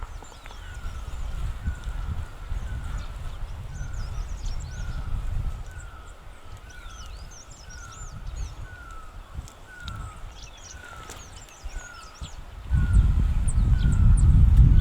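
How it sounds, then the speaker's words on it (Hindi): Repeated koel calls ring out at a regular pace over chirps and twittering of other birds, outdoors in a mountain village with wind gusts and rustling between them. "ये जो आप पीछे चिड़ियों के चहचहाने और कोयल की आवाज़ सुन रहे हैं"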